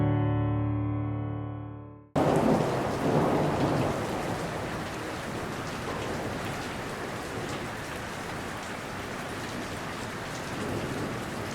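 A sudden thunderstorm in Laos at the end of the dry season: heavy rain pours in a steady, dense hiss with low rumbling underneath, loud and continuous after an abrupt start following a musical tone.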